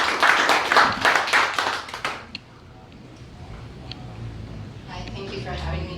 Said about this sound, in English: Please give a big round of applause for author Ruth D. Fisher.